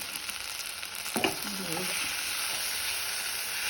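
Drumstick leaves cooking in a pan, a faint steady frying hiss with a brief clatter of a spoon stirring partway through, no talk.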